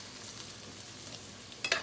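Potatoes fry in a pan for a katla fish head curry, a soft, even sizzle at low level, with a brief louder scrape or stir near the end.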